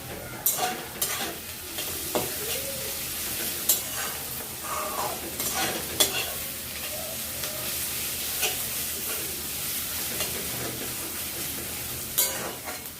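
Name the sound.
onions frying in a pan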